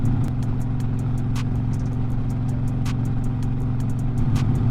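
A motorcycle cruising at highway speed, its steady low engine drone and road rumble continuous and close, with wind noise and faint ticking over the top.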